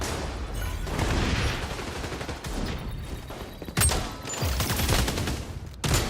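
Gunfire in the online shooter XDefiant: bursts of rapid shots and a few sharper single cracks, moderately loud, with brief lulls between volleys and game effects around them.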